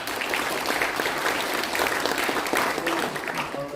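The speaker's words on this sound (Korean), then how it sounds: "환영의 박수 한번 해주십시오." An audience in a large auditorium at a formal national launch ceremony claps steadily in welcome, a dense, continuous applause filling the space, with no talk over it.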